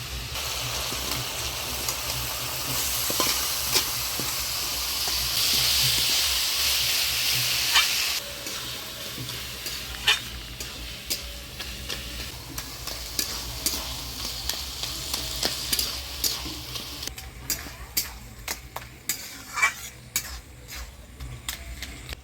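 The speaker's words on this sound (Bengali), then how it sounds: "মোচা দিয়ে মশলার সাথে নাড়াচাড়া করে নিলাম" Boiled banana flower is stirred into spices in a pan, giving a loud sizzling fry at first, then settling into quieter frying with repeated scraping and clinking of a spatula against the pan.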